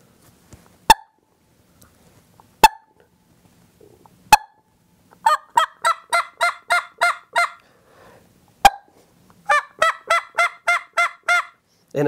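A hedge-style tube turkey call with a flared end piece and latex reed, blown in sharp single clucks, then rapid runs of raspy yelps, alternating with pauses, loud and close.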